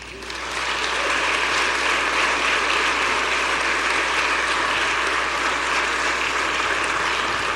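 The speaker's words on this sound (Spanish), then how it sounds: "Dale un aplauso al Señor." A church congregation claps together in sustained, dense applause that swells in quickly and holds steady, loud and close, with no speech over it.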